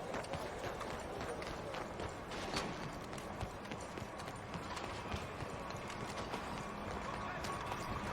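Hooves clip-clop rapidly in a steady galloping rhythm in Red Dead Redemption 2, over continuous ambient noise, with a faint voice or two mixed in.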